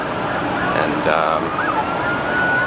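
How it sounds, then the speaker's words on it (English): Police sirens wail in the distance in New York on September 11, 2001, rising and falling tones over a busy background murmur of noise and faint voices. "now there's a lot of police activity and sirens"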